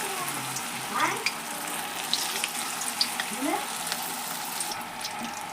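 Sabudana vada fry in hot oil with a steady, dense sizzle and crackle up close, broken by a few soft scraping stirs.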